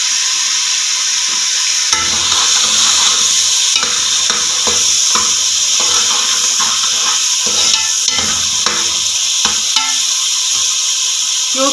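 Ginger sizzles in hot oil in a pan while being stirred for matar pulao, a steady bright frying hiss punctuated by repeated scraping and clinking of the spoon against the pan.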